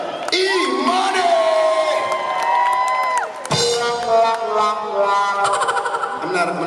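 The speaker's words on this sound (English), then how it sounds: "Let's get a round of applause for the maniac from Manila, E-Money!" A crowd cheers and whoops loudly for a performer introduced as E-Money, with sustained shouts and cries in a dense, noisy wash that stays strong throughout.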